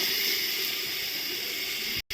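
Steady hiss and sizzle of water splashed into spiced masala with turmeric, chicken masala, cumin and coriander powder frying in a pan, loud and close, cutting off abruptly near the end.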